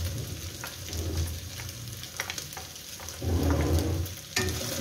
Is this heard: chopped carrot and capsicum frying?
yes